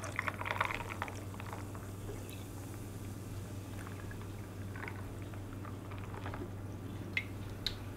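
Sprite poured into a cup filled almost to the rim, giving a steady fizzing, bubbling hiss throughout with a constant low hum underneath and a few faint clinks.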